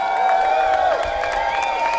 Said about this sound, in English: Fucking round of applause for all of you for coming out here today.